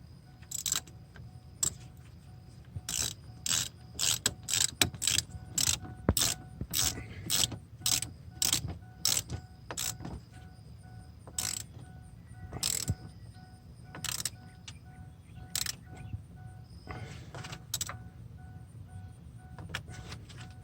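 Metallic ratcheting and clinking from a wrench tightening bolts during alternator replacement on a Ford 6.0 Powerstroke diesel, coming in repeated short bursts with pauses, close and fairly loud with no talk.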